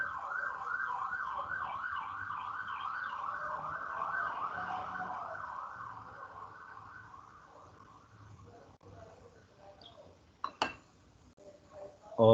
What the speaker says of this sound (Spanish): hago una pausa que va pasando una ambulancia por aquí